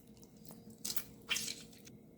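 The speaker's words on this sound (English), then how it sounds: "Let's add some juice from a lemon." A lemon is squeezed by hand, giving two short wet squishing bursts close up with faint drips around them in a quiet kitchen.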